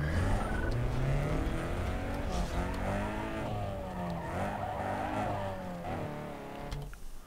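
A tuned street car in Need for Speed Underground 2 drives with a rising and falling engine whine, tires squealing now and then, loud and close throughout.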